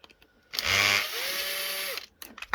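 A power drill removes screws from an electric screwdriver being scrapped, whirring up close for about a second and a half, its pitch shifting as it works, then cuts off.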